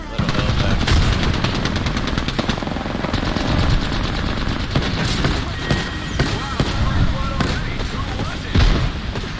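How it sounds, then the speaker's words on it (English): A grenade thrown amid gunfire in a PC shooter game, with rapid bursts of machine-gun fire and scattered shots rattling over constant battle noise, and a voice talking at times. "Tossing a grenade."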